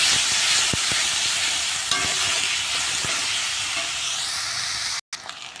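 Onion, garlic, tomato and cumin frying in oil, a continuous close sizzle with a few clicks of stirring, cutting off abruptly near the end before resuming briefly.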